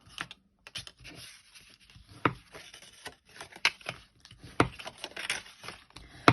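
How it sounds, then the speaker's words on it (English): Card pieces for a hexagonal gift box are folded and creased by hand, producing sharp taps, creaks and rubbing crinkles in irregular bursts, close up and fairly quiet, with no talking. "I'm just going to fold it quickly"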